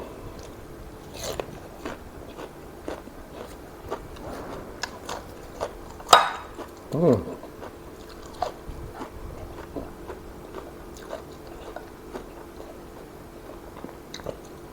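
Someone eating Isan-style free-range chicken soup, with quiet, close crunching bites and chewing spread through, plus a couple of louder bite or crunch sounds in the middle.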